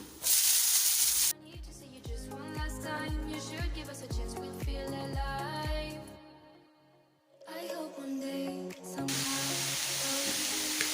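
Bay leaves and onions sizzle in hot oil with a bright, steady hiss at the start and again at the end, with tonal music playing in between.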